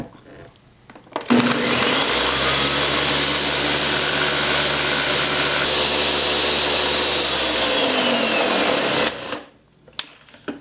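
A blender on high speed whirs steadily for about eight seconds, blending Irish sea moss with spring water into a smooth gel, with a loud, even motor drone that starts and stops abruptly.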